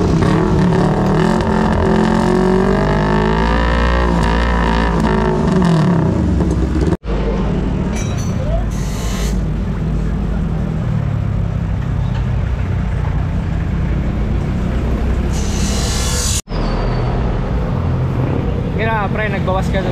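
A Yamaha NMAX V2 scooter fitted with a Zeus aftermarket exhaust muffler, its engine droning loud and close with rising and falling revs, two brief cutouts, and people talking over it.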